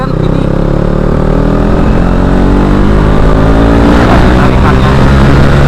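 A KTM RC250 single-cylinder motorcycle engine roars loudly and continuously, its pitch climbing steadily as it accelerates hard, with a throaty buzzing note.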